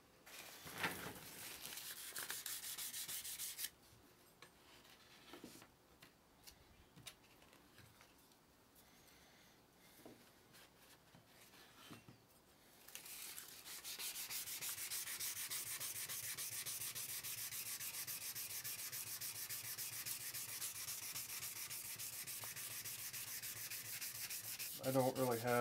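Hand sanding an old rusty axe head: a rapid scratchy rubbing at first, a quieter stretch of sparse scrapes and taps, then steady, louder back-and-forth abrasive strokes to the end.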